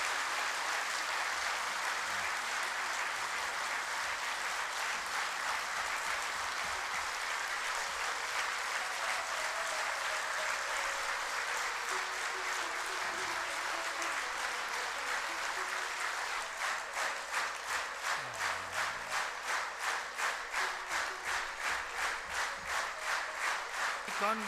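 A large audience claps continuously, giving a dense, sustained wash of applause that turns into rhythmic, synchronized clapping toward the end.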